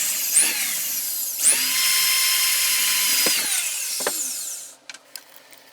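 A power drill bores a set-screw hole in a small knob for a 1947 Papa-Radio P.R.6 set. It spins up with a rising whine, stops briefly, then runs at a sustained high pitch. It winds down with a few clicks.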